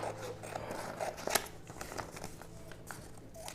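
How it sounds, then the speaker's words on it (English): Scissors snip through folded white paper in a handful of quick, close cuts with light crinkling, the sharpest snip near the middle, over a faint steady hum and no talk. "If I fold the paper and if I cut"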